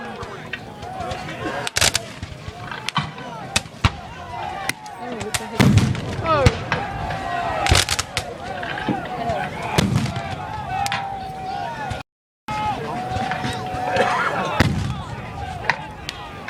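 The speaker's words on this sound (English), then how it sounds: "Good artillery crew, 8 to 10 men, can fire at approximately the same rate that an individual soldier, infantry soldier, can fire" Cannon fire and gunfire at a Gettysburg Civil War reenactment, with bronze smoothbore and iron rifled artillery pieces. Repeated sharp booms and cracks sound throughout, some near and loud, others more distant, over a busy outdoor crowd.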